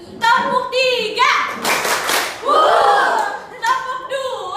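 A school class of children claps hands in a counting clap game, sharp bursts of unison claps between a teacher's spoken prompts and the children's voices.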